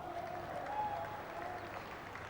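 Steady applause from a cricket Test crowd at Wellington for a maiden Test hundred, a continuous even patter of clapping at moderate distance throughout.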